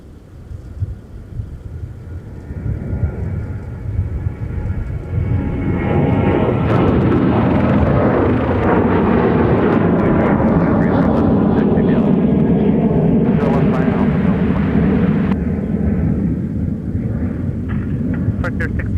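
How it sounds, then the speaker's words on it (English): A Sun Country airliner takes off from runway 30 left, its jet roar swelling from a distant rumble into a loud, sustained blast that holds strong before easing slightly, with wind buffeting the microphone. "we got another Sun Country departure on 30 left."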